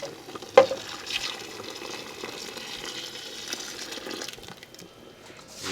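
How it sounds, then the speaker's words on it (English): Fresh coconut milk is poured into a pot of pigeon peas soup in a Trinidad kitchen, giving a soft, continuous liquid pour with light splashing and a brief clink near the start, close by and without talk. "So add our coconut milk."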